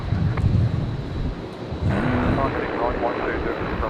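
A Singapore airliner passes directly overhead near Brisbane airport, its engine roar and broadband rumble steady and loud, with a voice speaking over it.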